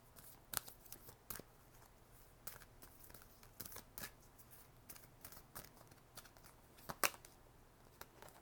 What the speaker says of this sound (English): I'm gonna pull a couple of the moon oracle cards for the divine feminine